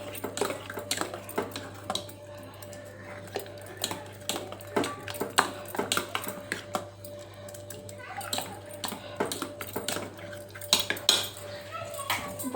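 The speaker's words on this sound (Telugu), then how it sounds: "ఇప్పుడు కొంచెం ఇట్లా మెత్తగా ఎదుపుకోవాలి పప్పు." Cooked dal and spinach mashed in a pot in a home kitchen, steady irregular scraping and clinking of a utensil against the pot, with people talking and children's voices in the background throughout.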